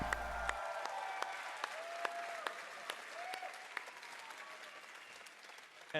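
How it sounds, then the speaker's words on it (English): A large crowd at the Nintendo Invitational claps and cheers in a dense, sustained wave of applause, with some distant voices and occasional louder claps standing out. "Half the people in the crowd are probably chanting Powsette"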